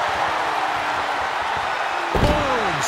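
A heavy slam of a wrestler onto a steel ambulance roof hits near the end in a wrestling video game, a sharp thud over continuous crowd noise, followed by a ringing metallic resonance that fades.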